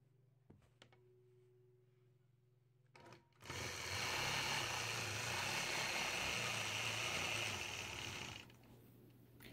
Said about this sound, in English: I'm going to show you just a little bit of the custom machine quilting